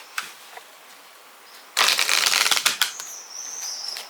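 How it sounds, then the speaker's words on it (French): An oracle card deck is shuffled close up in a quiet room, a brisk riffle of papery flutters after a few faint taps, then softer card handling as one card is drawn. "j'ai bien envie de me tirer une petite carte avec ce jeu"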